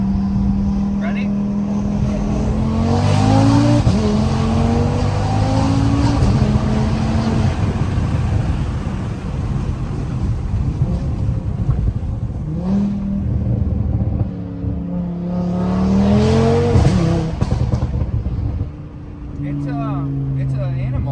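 An Audi RS3 fitted with a TTE700 turbo kit accelerates hard from inside the cabin, its engine note climbing through the gears with a steady loud roar and rising pitch, under people talking.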